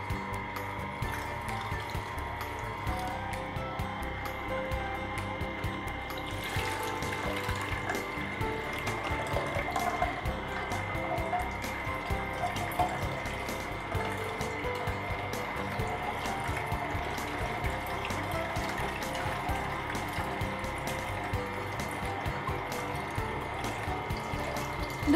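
Water runs through a Hurom HH-EBE06 slow juicer while it is running, giving a steady low mechanical churning with ratcheting clicks and a faint liquid trickle, moderately quiet and with no talking.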